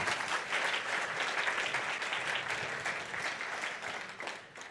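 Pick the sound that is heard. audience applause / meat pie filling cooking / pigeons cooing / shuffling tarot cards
audience applause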